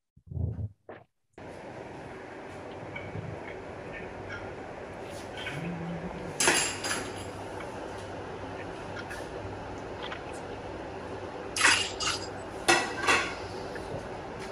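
Batter being mixed in a bowl, quiet steady stirring broken by occasional sharp clinks and scrapes of the utensil against the bowl, with a brief thump at the start and no talk.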